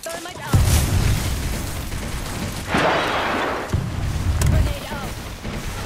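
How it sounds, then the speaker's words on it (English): Grenade blasts in the Apex Legends shooter game, deep booming explosions with a crackling burst, close and loud, several in a few seconds over continuous game noise. "Grenade out."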